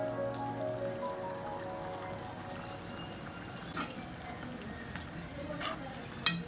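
Finely chopped mint, garlic, ginger and coriander fry in a pan of biryani gravy, giving a soft continuous sizzle with stirring scrapes and a few sharper clatters near the end.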